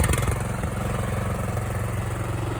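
A small engine runs steadily after its choke is taken off, a loud, even low-pitched putter held close by with no voices over it.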